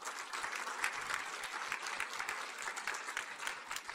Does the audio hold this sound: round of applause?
yes